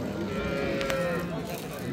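Cow at the Choja livestock market in Shaxrixon, a single drawn-out moo close by amid background market chatter and crowd noise.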